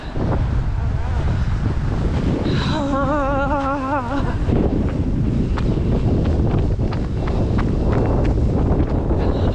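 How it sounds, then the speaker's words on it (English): Strong wind roars constantly across the microphone outdoors on a long multi-day walk. The gusty buffeting stays loud throughout, and a voice briefly sounds over it. "Crazy wind today."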